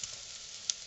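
Garlic browning in a pan, a soft steady sizzle with a single light click, faint and brief.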